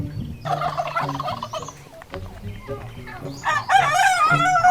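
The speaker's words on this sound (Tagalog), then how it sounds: "Makita po nato mga Chinese nga chicken diri. Chinese nga mga manok." Chinese breed chickens clucking and calling at close range in a seaside nature sanctuary in Initao, Philippines, with a rooster-like crow rising near the end.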